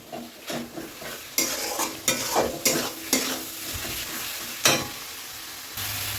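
Bhetki fish bones being sautéed with spices in a pan for a spicy kanta chorchori, with repeated scraping stir strokes over a steady sizzle, close and moderately loud, no voices.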